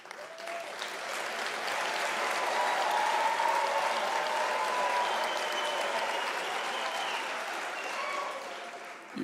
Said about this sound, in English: I acknowledge the audience for having steadfastly applauded the graduates